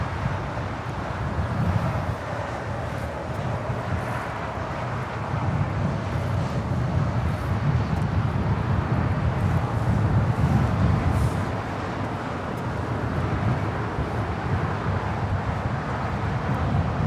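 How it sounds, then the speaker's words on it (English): A United Airlines Boeing 787-9 Dreamliner bound for London taking off at Los Angeles International Airport: steady, broad jet roar heard from a distance, swelling slightly mid-way and holding throughout with wind noise. "United Airlines flight 923 heading to London, 787-9 Dreamliner"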